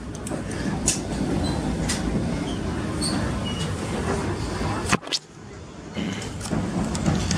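An old Western Pacific caboose rolls along the rails with a steady rumble and scattered wheel clicks and clacks, close and moderately loud, with a brief dip partway through and voices faintly underneath.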